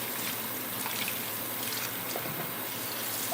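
Water runs steadily from a tap while dishes are washed in a sink, a continuous broad rushing splash with faint clinks. It is fairly close and has no talking over it.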